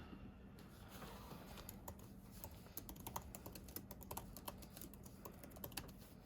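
Rapid typing on a computer keyboard, a steady stream of soft key clicks of varying speed over a constant background hiss, fairly faint.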